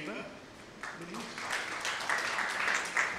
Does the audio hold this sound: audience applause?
yes